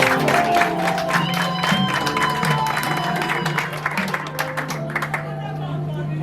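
Wedding guests at a civil marriage ceremony break into sustained applause, a dense wash of clapping that carries steadily throughout with a few scattered whoops, while voices talk underneath.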